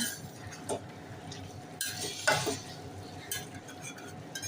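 Masale bhat rice being stirred in a cooking pot, with scraping and clinking of a spoon against metal in a few short bursts, close and fairly quiet.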